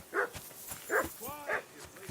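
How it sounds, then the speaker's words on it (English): A dog barking in the medieval video game Kingdom Come: Deliverance II, four sharp barks about every 0.6 seconds, close and fairly loud. "Jesus, Henry, that barking's driving me nuts. Can you get your dog to shut its beak?"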